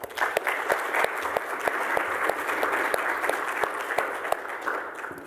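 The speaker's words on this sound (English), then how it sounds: "let's please give Whitney and her students a round of applause" A crowd at a university celebration event claps steadily for Whitney and her students, a sustained even wash of many hands with a few sharper individual claps standing out, moderately distant throughout.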